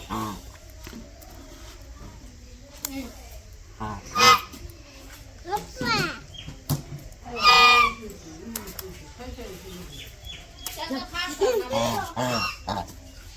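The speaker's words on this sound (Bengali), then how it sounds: "এই হলো হাঁস" Loud honking duck calls burst out in several bouts, close by, mixed with a person talking and shooing the ducks.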